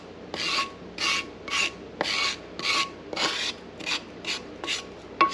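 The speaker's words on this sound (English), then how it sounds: "Scrape every last bit, as much as I can get." Repeated scraping of a spoon against a pot to get the last bits of Japanese curry, about nine rasping strokes in a steady rhythm, close and fairly quiet, with no one talking.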